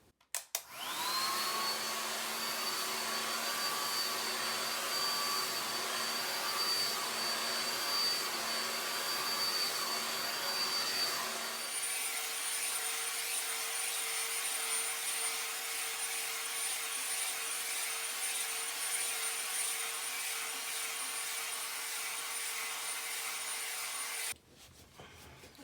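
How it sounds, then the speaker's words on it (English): An Andis hair dryer switches on and blows with a steady high whine and airy rush, drops to a lower setting midway, then cuts off near the end. "I'm gonna use my Andis hair dryer. I love this dryer. It dries my hair so quickly."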